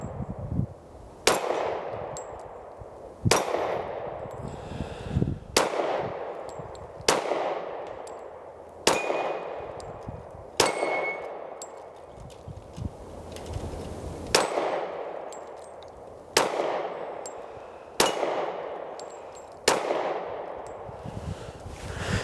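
A Ruger SR40C pistol fires about ten loud, sharp shots at a steady pace, each crack ringing briefly before the next, with no talking.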